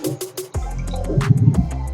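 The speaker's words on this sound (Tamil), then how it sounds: "பால் ஊற்றிக்கலாம்." Milk poured into rose cookie batter in a home kitchen, a steady liquid trickle with a few splashy drips and a low hum underneath, close and moderately loud.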